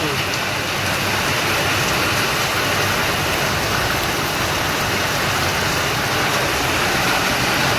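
Heavy village rain pours down in a dense, steady roar of broadband hiss that fills the whole clip, with a voice faintly audible beneath it.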